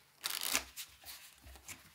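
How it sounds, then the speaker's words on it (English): A deck of playing cards riffle-shuffled on a table: a quick crisp burst of flicking cards, then softer taps and squaring of the deck, close and fairly quiet with no talking. "a riffle shuffle."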